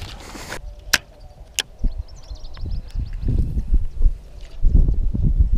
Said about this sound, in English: And now the wind picks up.